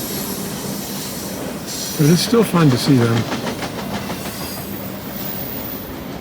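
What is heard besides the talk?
BNSF double-stack intermodal freight train passing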